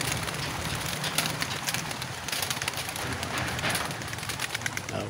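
Dense flutter of many pigeons' wings beating at once as they are released from a truck, a broad rushing clatter with a few faint coos mixed in, close and steady throughout.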